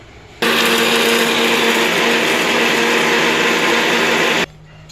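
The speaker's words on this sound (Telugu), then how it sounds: "ఇవి మిక్సీ జార్లో వేసేసి పచ్చడి పచ్చడిగా నూరు" A kitchen mixer grinder whirs loudly and steadily as it grinds peanuts into a coarse powder, starting abruptly, holding a constant high-pitched motor roar for about four seconds, then cutting off, with no talk.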